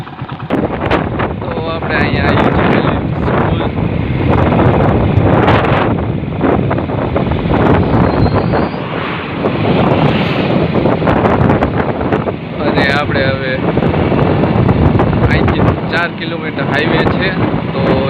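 A motorbike rides along a highway with heavy wind buffeting the microphone, a steady loud roar throughout as a rider talks intermittently.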